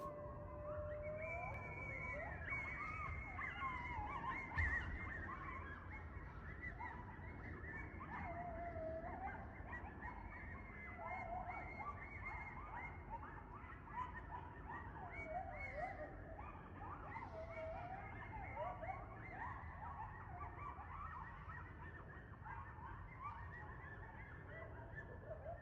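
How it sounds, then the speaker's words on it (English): A pack of coyotes howls and yips a couple of miles back in the woods, a continuous overlapping chorus of rising and wavering cries that stays faint and distant throughout, with no talking. "that was a pack of coyotes, probably a couple miles back in the woods"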